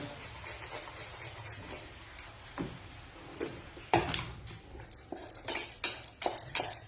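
Chocolate being grated by hand for a fruity chocolate cake, a quiet rhythmic series of scraping and tapping strokes that grow sharper and more frequent toward the end, with light clinks of utensils and no voices.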